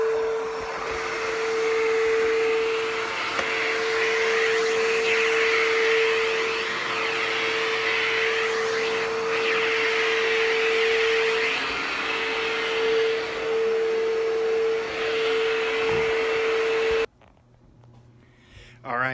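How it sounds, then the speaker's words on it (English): A vacuum cleaner drones steadily and loudly with a strong whine, running continuously until it cuts out near the end, leaving quieter room sound. "let's turn on the vacuum"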